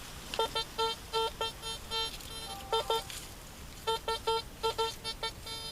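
A metal detector gives repeated electronic beeping tones over a rock in short bursts, a warbling signal that rises and stops in quick rhythmic clusters with brief pauses between groups.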